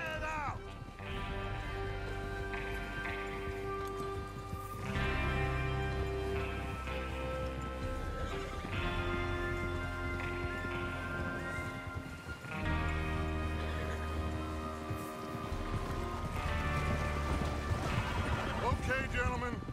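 Horses in Red Dead Redemption 2 snort and whinny over hoof clip-clop and running, set under a dense, loud orchestral game score that carries throughout.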